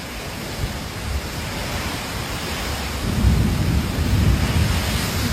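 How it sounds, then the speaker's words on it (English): Heavy rain pours steadily during Hurricane Beryl in Texas, a dense continuous hiss with deep thunder rumbling and swelling louder in the second half. "heavy rain continued to soak"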